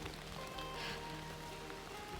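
Light rain falls steadily on the Appalachian Trail in Pennsylvania, a soft, even patter of drops on the surroundings with no voices, fairly faint and continuous throughout.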